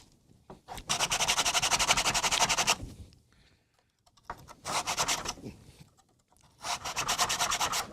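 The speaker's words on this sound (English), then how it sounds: "It is destroying the sandpaper." Hand sanding with sandpaper makes three long, loud, scratchy rubbing bursts of a couple of seconds each, separated by quiet pauses, close up and without talk.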